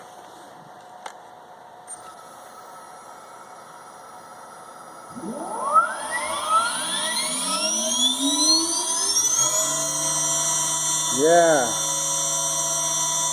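An electric motor with Hall sensor startup spins up at 452 volts, its whine sweeping quickly upward in pitch from near silence and then holding as a loud steady tone with a brief wobble; a voice speaks briefly.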